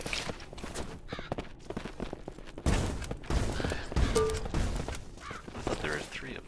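A tomato launcher fires in the Shotgun Farmers game, with several loud bursts and thumps in a busy firefight, scattered sharp shots and other game noise, while players talk over it.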